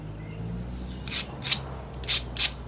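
Four brisk rasping strokes of sanding on wooden ribs for a Sopwith Camel aircraft, evenly spaced, close and fairly loud over a low background hum.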